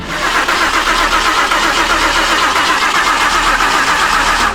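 A chassis-swapped Ford Mustang engine cranking steadily and trying to start, a loud continuous rhythmic churning heard up close for several seconds without catching.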